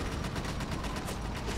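Drive-by gunfire in GTA 5, a dense rapid burst of automatic shots rattling continuously and loudly for the whole stretch, with no pauses between rounds.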